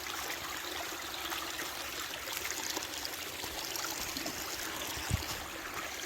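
Ice-cold Appalachian creek water runs steadily over rocks, a continuous close trickling and gurgling wash with one small splash near the end.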